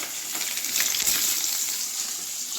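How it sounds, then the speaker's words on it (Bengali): Halved eggs rubbed with salt and turmeric sizzle in hot oil in a wok, a bright crackling hiss that swells briefly near the middle and then settles into steady frying, with no talking. "এইভাবে আমি নুন হলুদ মেখে রাখা ডিমগুলো একে একে ভেজে নেব"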